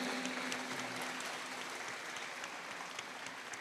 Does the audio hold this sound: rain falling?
no